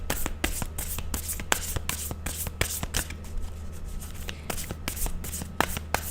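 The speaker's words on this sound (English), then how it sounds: "I'm gonna shuffle these to get a little bit more clarity." Tarot cards being shuffled by hand, with repeated crisp riffles and taps at an irregular rhythm, close and moderately loud, with no talking.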